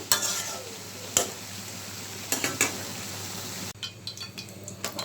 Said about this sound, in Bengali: ইলিশ মাছটা প্রথমে হালকা ভেজে নেব